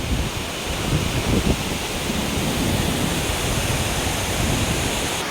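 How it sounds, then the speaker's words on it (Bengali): Stream water from the Teesta watershed rushes downhill toward the Teesta river in the Sikkim mountains, a dense, continuous roar close by that fills the scene with no voices. "এই তিনতেক খোলার জল চলে যাচ্ছে তিস্তাতে।"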